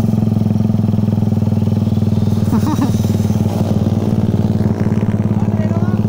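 A motorcycle engine runs loud and steady nearby with a throbbing, rapid pulse, and a voice briefly speaks over it.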